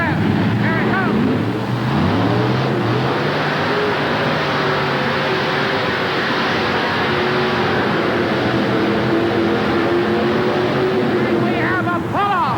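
An alcohol-burning drag racing engine at a 1988 Hampton drag event roars off the line and down the strip, a loud, steady blare heard from the stands with wind buffeting the microphone.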